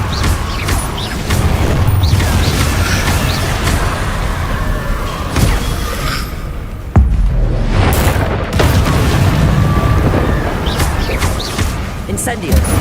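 Incendio fire spells and other combat magic explode repeatedly in Hogwarts Legacy, with loud booming, crackling blasts layered over a dense, continuous roar of battle.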